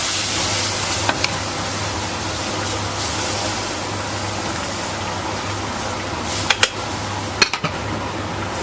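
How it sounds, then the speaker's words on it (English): A spoon stirs roux into bubbling etouffee in a pot over a fire. Occasional sharp knocks and scrapes of the spoon against the pot rise over a steady, loud sizzling bed. "Stir all that in there."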